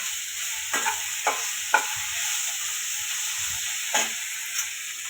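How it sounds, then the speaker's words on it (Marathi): Green chillies roast in masala in a pan, a constant close hiss of frying broken by about five sharp spatula scrapes spread unevenly across the stretch. "मी मिरच्या पण टाकते थोड्याशा त्या पण आपण भाजून घेऊया त्याच्यामध्ये"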